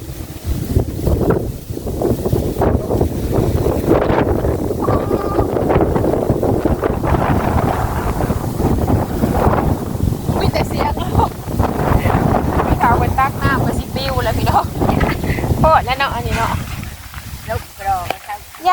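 Wind gusts outdoors while a charcoal fire is being lit, a rough buffeting rush against the microphone underneath people talking throughout.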